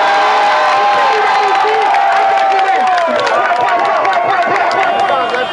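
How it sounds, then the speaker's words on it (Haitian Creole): A large crowd at an outdoor political rally in Cornillon Grand Bois cheers and shouts continuously, loud and close, with whistles and voices blending into dense babble. "alors applaudissez si nous voulons vraiment"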